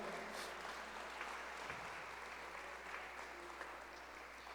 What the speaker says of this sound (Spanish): Le damos un fuerte aplauso a nuestros hermanos que nos ven y nos sintonizan para escuchar la palabra de Dios.